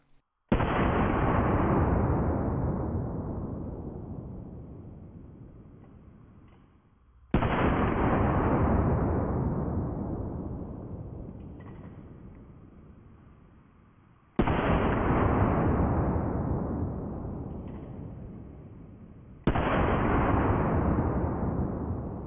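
Four heavy, booming revolver shots spaced several seconds apart, each a sharp crack followed by a long decaying rumble, aimed at a suspended target on a ranch, loud and close with no voices.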